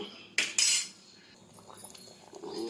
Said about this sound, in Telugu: దీనిని ఒకసారి మొత్తం ఇలా మిక్స్ చేసుకొని ఒక్క పొంగు వచ్చే వరకు ఉంచుకోవాలి